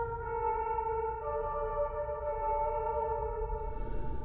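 Steady piano-like tones played in a video game quick-time event, sustained notes held in stacked layers with a low rumbling backdrop, moderately loud and without talk.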